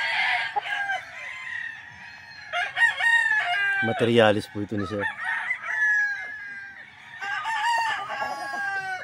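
Tiger Gray stags, local banded roosters, crow repeatedly in several loud bursts at close range, with clucking from other fowl nearby and someone speaking briefly over the birds.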